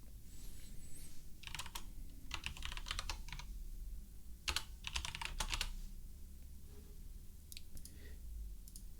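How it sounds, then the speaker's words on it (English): Someone types quickly on a computer keyboard, bursts of sharp key clicks with short pauses between them, fairly faint against a quiet room hum and with nobody talking. "start hammering my keyboard"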